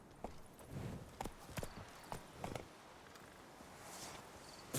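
In The Witcher 3, the horse Roach walks with soft, irregular hoof clip-clops over ground, fairly faint and steady, with a light ambient background.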